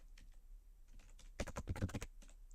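Someone types quickly on a computer keyboard, a few scattered key taps followed by a dense close burst of clacking keystrokes.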